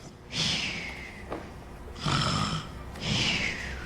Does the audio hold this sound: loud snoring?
yes